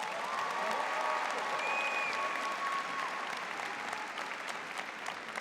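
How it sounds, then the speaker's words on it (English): Sustained applause from a commencement ceremony crowd at Adelphi's 2024 undergraduate graduation, steady and dense throughout with a faint tonal hum running under part of it. "Let's give him another round of applause."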